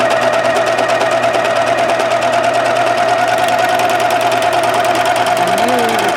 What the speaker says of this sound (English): Let's say we're serging this pocket closed.